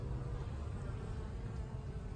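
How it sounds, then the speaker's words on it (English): Steady, dense buzzing of many honey bees inside a hive, a continuous low hum close by with no pauses. "the bees inside there working."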